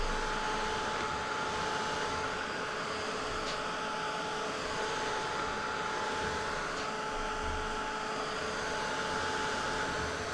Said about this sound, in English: This is very quiet, this little dryer thing. It produces more heat than air, so dries it quick, but without quite so much noise.